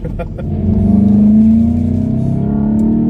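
A 2021 Volkswagen GTI engine rises from a short rumble into a loud, sustained rev whose pitch climbs then holds and eases slightly, heard close with no talking.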